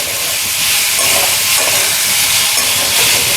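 Fish frying in hot oil in a pan for a Bengali fish shukto, a loud, steady, continuous sizzle that stays even throughout.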